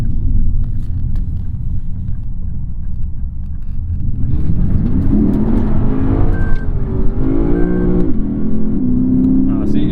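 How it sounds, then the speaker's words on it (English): A 2015 Lexus RC-F engine revs up, its pitch rising and then dropping sharply as the automatic gearbox shifts up, with a steady rumble from a gravelly road underneath and a voice talking over it. "Upshifted automatically there."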